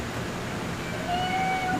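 A cat gives a single drawn-out meow, fairly soft, over a steady background hiss, with no voices.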